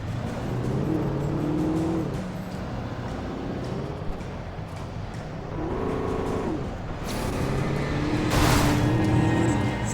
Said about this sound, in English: let's drive out of here in our new car